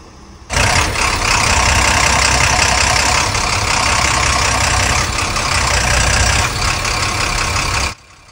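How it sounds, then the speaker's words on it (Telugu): Truck engine of a Harish Chetak 2.0 running with the bonnet open after repair, a loud, steady, close idle that starts abruptly and cuts off cleanly after about seven seconds, with no voices. "ప్రస్తుతానికి బండి బానెట్ అయితే క్లోజ్ చేయలేదు, అందుకనే ఇంజన్ సౌండ్ అనేది లోపలికి హెవీగా వచ్చినట్టు అయితే కనిపిస్తూ ఉంది."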